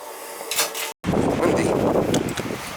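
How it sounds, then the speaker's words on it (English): Gusty wind rushes across the microphone outdoors at a summer cottage, a loud rough roar that briefly cuts out, then blusters on steadily. "She's windy today."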